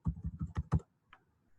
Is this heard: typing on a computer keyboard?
yes